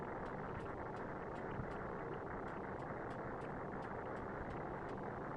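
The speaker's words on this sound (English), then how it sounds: "You hear those little tapping sounds?" A car in Need for Speed (2015) idles with a steady, dense engine drone, while faint, light tapping clicks repeat at a quick, regular pace over it throughout.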